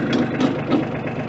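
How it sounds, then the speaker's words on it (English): A backhoe's diesel engine idles at about 800 RPM after sitting unused for two years, with a low, steady rumble and slightly pulsing rhythm, close by and alone. "I've got it idling about 800 RPM"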